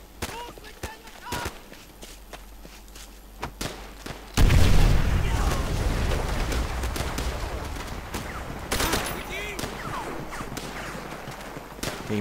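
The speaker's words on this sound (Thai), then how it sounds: "ยิงมา" Gunfire fills a Call of Duty: World at War battle on the Breaking Point mission at Veteran difficulty. Sparse, scattered shots give way to a loud, dense barrage that continues steadily to the end, with voices talking over it.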